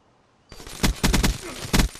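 Gunfire in the Black Ops 3 competitive shooter, a sudden cluster of sharp, loud shots in quick bursts followed by one more crack, heard alone after a quiet start.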